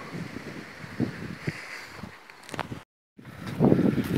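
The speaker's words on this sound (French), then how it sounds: "il y a beaucoup trop de vent, j'ai oublié le micro-cravate qui aurait pu atténuer le vent" Strong outdoor wind buffets the microphone in a field, gusty rumbling thumps rising and falling, broken by a brief total dropout before a louder gust returns.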